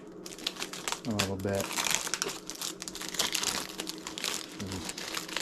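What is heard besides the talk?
plastic protective sheet being folded back, crinkling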